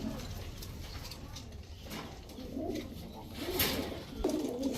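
Rampuri pigeons, pairs kept in a seller's loft, coo in soft repeated bursts that swell and fade over a low background murmur.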